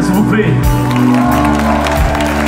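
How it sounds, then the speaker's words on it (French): A concert crowd at a tribute show applauds and cheers for the technicians, dense clapping mixed with shouts beneath someone speaking French over the amplified hum of the stage sound. "Je voudrais qu'on applaudisse absolument les techniciens"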